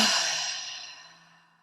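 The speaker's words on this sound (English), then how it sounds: "Take a big breath in." A single long, deep breath drawn in during a calm guided relaxation, a soft airy rush that starts fairly loud and close and fades steadily over about a second and a half, heard alone without talk.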